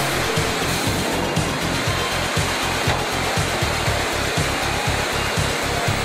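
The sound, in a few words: computer-controlled woodworking machine milling a rafter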